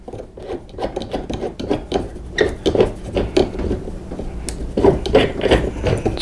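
A Ravin crossbow is set into a bench vise and cranked tight, giving a steady series of close rasping, scraping rubs and small metallic clicks that repeat across several seconds without talk.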